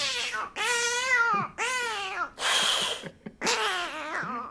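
A voice imitates a dog and cat fight, producing a series of whining, yowling cat-like cries with breathy, hissing bursts between them, close and fairly loud.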